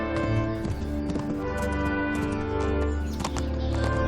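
A horse's hooves clip-clop at a steady trot-like gallop in Kingdom Come: Deliverance, close and continuous over a droning ambient game backdrop, with no pauses.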